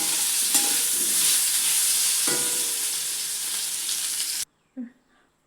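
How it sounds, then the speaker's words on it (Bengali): Boiled potatoes fry in a pan with a continuous close sizzle and a few stirring knocks, then cut off abruptly to near silence with a brief faint sound. "তারপর আলুটাকে বয়েল করে ভাজি করছি একটু"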